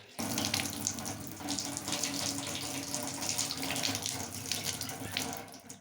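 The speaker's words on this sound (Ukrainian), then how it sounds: "Напор води гарний." Water runs steadily from a tap fed by a home pump station with a newly replaced pressure tank, a strong, continuous close splashing stream with no talk.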